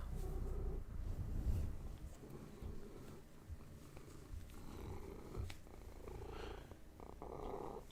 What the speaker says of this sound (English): you may hear the purring from the cat now as he comes into the microphone